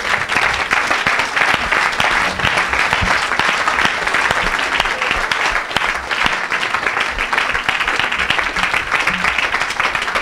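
A church congregation claps and applauds in a dense, continuous burst, loud and close, holding steady throughout with no break.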